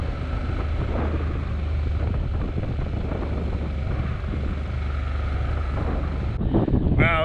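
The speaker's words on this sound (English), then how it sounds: "it is oppressively hot and windy out here" Strong gusting wind buffets the microphone of a moving motorcycle on a hot, windy stretch of road near the Black Hills of South Dakota, a constant low roar with engine rumble underneath and a brief voice near the end.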